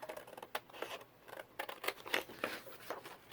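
Scissors snip steadily through printed gingham paper, a string of crisp, close cuts with short pauses between strokes and no voices.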